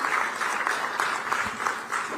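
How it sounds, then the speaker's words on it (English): At a political speech event, an audience claps steadily for a couple of seconds, a dense, even wash of applause with no voices over it. "Thanks for clapping."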